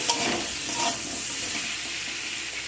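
Small fish curry with turmeric and green tomato being stirred in a pan, with a loud steady hiss of frying and soft scraping strokes of the spoon beneath it.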